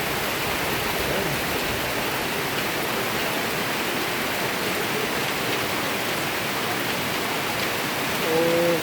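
Steady rain pours outdoors over rice paddies, a dense, even hiss that holds unbroken throughout, loud and close with no clear speech over it.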